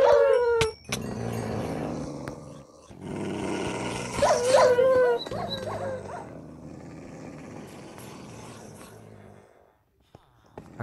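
Several dogs in a video game growl, whimper and yip at length in a mansion, close and fairly loud, fading to quiet near the end.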